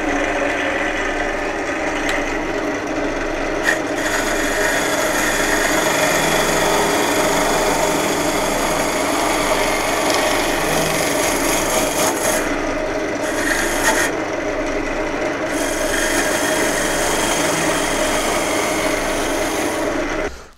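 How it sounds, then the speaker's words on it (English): A hollowing tool cuts into wood under the lip of a piece, producing a steady, continuous rasping scrape that runs close and unbroken for about twenty seconds with no talking. "change over to my other hollowing tool here so that I can just get in under the lip here"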